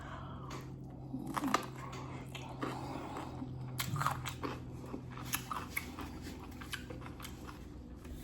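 Close, crisp bites and crunchy chewing of a spicy sushi boat made with cucumber and sriracha, eaten by hand, with irregular crunches and wet chews and no talk.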